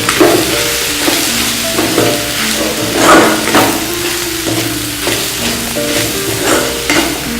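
Cuttlefish frying over a low flame in a pan, with a steady crackling sizzle broken by repeated scraping strokes as the pieces are stirred, close and with no talking.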